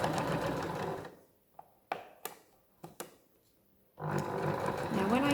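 A domestic sewing machine stitching fabric for a boho handbag runs in a steady whir, then pauses while a few sharp taps and clicks sound up close before the motor resumes.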